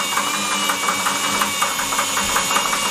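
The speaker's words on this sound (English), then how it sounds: "The water's on, and I'm starting to spin it with the drill." A drill spins a tank-cleaning tool inside a water heater with the water running, giving a steady motor whir with rapid rhythmic knocking and rattling throughout, close and fairly loud with no talking.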